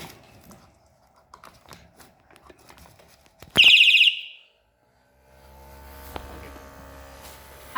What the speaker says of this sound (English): we have prepared a gas leakage detection system which detects harmful gases through sensors and produces an alarm to prevent accidents